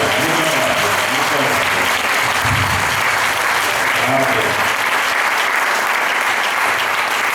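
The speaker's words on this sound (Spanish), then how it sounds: "Un aplauso también para él" Applause from an audience at a stage show in Puerto de Sagunto, Valencia, a continuous loud round of clapping with voices and some cheering mixed in.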